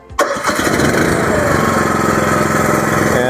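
Engine of an Equipter Tow A Lift catches after a brief start button crank, roughly half throttle, then settles into a steady, loud, close running drone that continues to the end.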